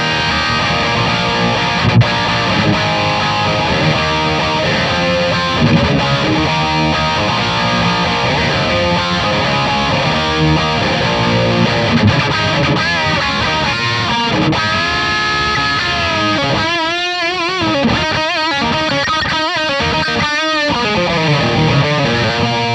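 An electric guitar plays through a Kemper profiling amp loaded with a Splawn Nitro profile, dry with no reverb, giving loud distorted riffs and sustained chords with choppy palm-muted bursts toward the end.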